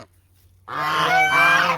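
Geese kept with backyard chickens honk loudly and close by, a dense cluster of overlapping calls that starts suddenly after a quiet moment and carries on steadily.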